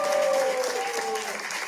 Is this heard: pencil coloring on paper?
no